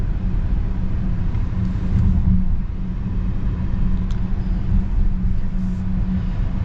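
Cabin drone of a 2026 Volvo XC90 B6 with its 2-liter four-cylinder engine while driving, a steady low rumble with road noise, constant and close.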